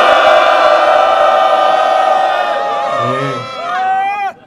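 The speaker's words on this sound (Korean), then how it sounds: "큰 함성 소리 함께 시작하도록 하겠습니다" A crowd at a Korean anti-war peace declaration press conference gives a loud, sustained collective shout that holds, then breaks into scattered individual voices before stopping abruptly.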